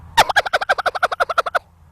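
A turkey gobble, slowed down, comes as a loud, rapid run of about fourteen evenly spaced throaty pulses. It lasts under two seconds and stands alone, with no talk over it.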